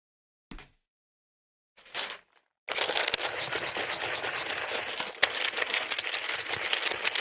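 Dice rattle as they are shaken, then roll in a dense, continuous clatter for about four seconds, with one sharp click partway through. Before this, a couple of faint, brief rustles are heard.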